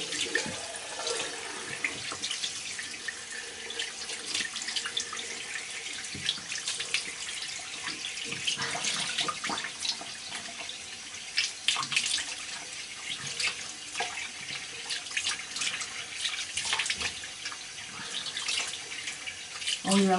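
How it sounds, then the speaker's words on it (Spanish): Tap water runs steadily into a sink while a face is rinsed. The hiss is fairly soft and continuous, broken by splashes and faint handling noises. "me voy a aclarar la cara"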